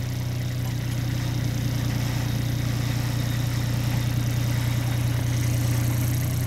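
A 2012 Ditch Witch JT5 directional drill runs steadily while spinning its drill string, the engine holding a constant low drone with a faint rhythmic mechanical flutter and no voices.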